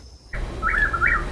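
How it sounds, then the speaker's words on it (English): A bird in the trees outside a hotel gives two short, bright chirps in quick succession over faint outdoor background noise. "It's a bird."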